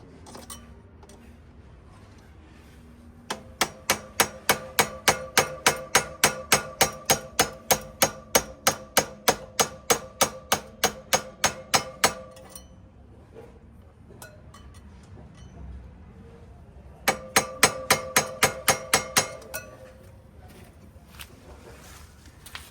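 Repeated metal hammer blows seating the rear brake pad on a Himalayan 450 motorcycle, two bursts of rapid, evenly spaced strikes, close and loud, with a quiet gap between them.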